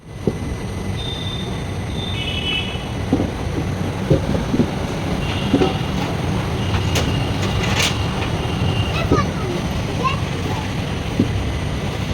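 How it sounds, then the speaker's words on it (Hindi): A Bharat Gaurav tourist train rolling along the tracks toward Nagpur, heard from inside the carriage as a steady rumbling drone with scattered rail clicks and rattles, plus a brief tonal squeal and chatter in the background. "फिर आगे के लिए हम आगे बढ़ ही रहे हमारी ट्रेन के साथ"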